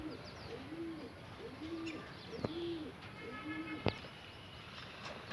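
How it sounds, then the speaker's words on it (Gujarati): Pigeons coo nearby in soft, repeated rounded calls at an even pace, with a couple of sharp clicks or taps in between and quiet background noise. "2 કબૂતર ઉડે છે ને 1 કબૂતર મિત્રો તારે બેસી ગયું"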